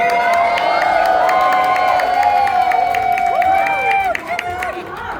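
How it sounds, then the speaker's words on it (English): Warm applause and cheering from a crowd standing at a private event, dense clapping mixed with shouts and whoops, loud and close, with a voice talking over it toward the end as the noise settles. "give him a warm round of applause"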